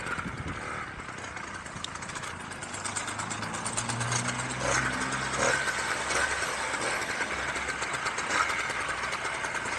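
A 1968 Clark Scamp 49cc two-stroke moped engine idles with a steady, buzzing putter that continues throughout under a broad hiss of outdoor noise, moderately close.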